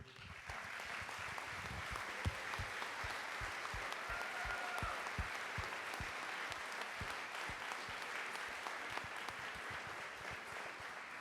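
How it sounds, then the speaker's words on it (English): A crowd at an athlete award ceremony applauds the students' parents, with steady, dense clapping that holds at an even level for about eleven seconds and has no break. "So if you're a parent of these kids, would you please stand so that we can applaud for you?"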